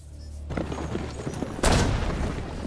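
An enemy fires in Assassin's Creed Brotherhood during a chase on horseback: low booming shots under a rumbling ride, with one louder blast partway through.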